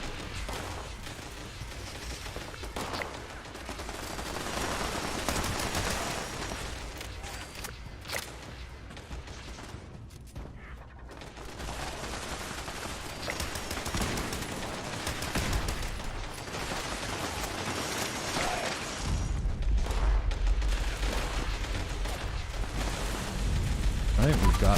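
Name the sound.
radium rifle firing in Fallout 76 video game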